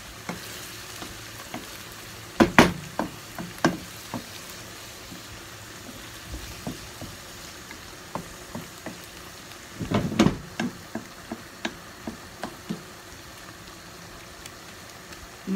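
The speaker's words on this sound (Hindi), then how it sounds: "मैं फ्राई करके डालती हूँ।" Food frying in a pan gives a steady sizzle, with scattered utensil clicks and two louder clatter bursts partway through.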